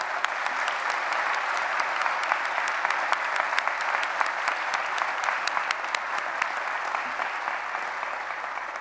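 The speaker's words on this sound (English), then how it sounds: "could you join me in giving them a round of applause" Steady, dense applause from a large audience at a graduation ceremony honours the Bournemouth Symphony Orchestra, continuing evenly for several seconds with crisp individual claps throughout.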